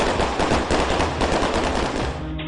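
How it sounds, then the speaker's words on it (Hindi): Dense, rapid bursts of automatic gunfire crackle continuously during a police mock drill at a building, loud and close, with overlapping shots and no pauses. "एक इमारत के अंदर और बाहर ताबड़तोड़ गोलियां चल रही हैं।"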